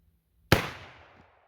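A Remington 1858 New Model Army .44 caliber revolver fires a single heavy black powder shot at a plastic bottle outdoors at a range: one sharp, loud crack followed by a decaying echo tail.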